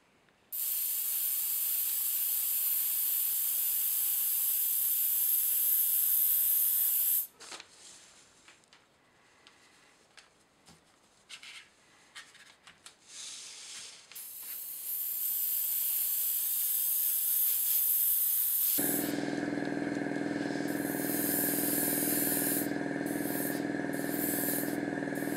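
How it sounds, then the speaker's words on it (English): An airbrush sprays dark grey paint, mixed from black and white, over a Dapol 15-ton crane model. A steady, close hiss runs for several seconds, stops for a quiet stretch, then resumes alongside a deeper humming tone. "I'll apply a light coat of dark grey made with two parts black, one part white,"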